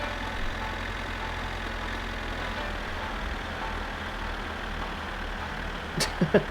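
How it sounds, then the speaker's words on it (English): Tractor engine in the video game My Summer Car, a steady low idling rumble running continuously at moderate level, with a few brief clunks near the end. "there's tractor engine noise and all that"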